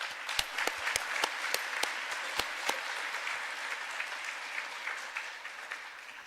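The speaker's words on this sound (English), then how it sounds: "Let's give our judges a warm welcome and a great round of applause." An audience at a startup pitch competition applauds to welcome the judging panel, sharp individual claps standing out at first, then blending into a softer, sustained patter of clapping from a moderately distant crowd.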